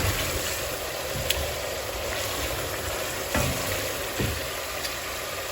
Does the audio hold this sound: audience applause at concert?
no